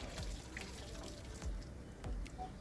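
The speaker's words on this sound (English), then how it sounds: "Strain the water and then just run it through cold water to stop the cooking process" Cold tap water runs over strained noodles in a kitchen sink, rinsing them to stop the cooking. A steady, soft, faint stream of water flows with no talking.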